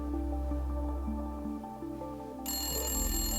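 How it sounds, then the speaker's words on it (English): A telephone rings with a bright electronic tone that cuts in partway through, over a steady musical backing in a holiday-themed show. "Oh, phone's ringing."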